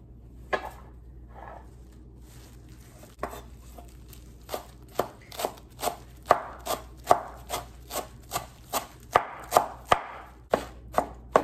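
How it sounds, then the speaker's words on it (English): Knife chopping parsley stems on a board, a steady run of sharp close taps that starts sparse and quickens into a regular rhythm, with no talking. "With the parsley, it's very easy. You just like chop them out."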